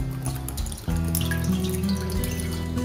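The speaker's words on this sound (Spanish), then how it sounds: "vamos a poner las 2 latas de leche" Milk from two cans is poured into a container for Sinaloa-style milk ice cream, giving a steady liquid trickle that thickens into a fuller, continuous pour after a brief pause.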